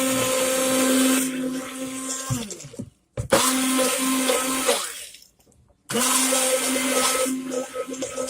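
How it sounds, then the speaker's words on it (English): Stick blender whirring through cold process soap batter with kaolin clay, a steady close whine that cuts out twice briefly and starts again, no voices. "just gonna blend this up, tip it over, put my stick blender over the kaolin clay"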